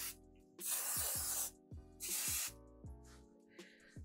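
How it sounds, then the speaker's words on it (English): Two long, loud aerosol hisses, each about a second, followed by a shorter softer burst, with quiet clicks and humming between sprays. "And I'm gonna add some hairspray."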